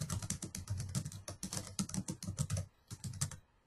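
Fingers type quickly on a computer keyboard in an office, a close, busy clatter of keystrokes that slows and trails off near the end.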